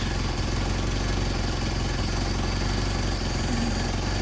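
A Mercedes 190SL engine with Solex carburetors idles steadily and continuously, a close, even mechanical drone with no voices over it.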